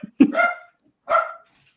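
A small dog gives two sharp barks close by, each followed by a short yelping tail, with a brief pause between them and silence around them.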